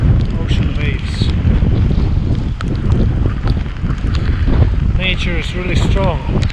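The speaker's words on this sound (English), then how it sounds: "Ocean waves." Wind-driven Pacific Ocean waves at Porteau Cove crash continuously under strong gusts that buffet the microphone, a loud, dense roar with no pause, while a person talks faintly over it.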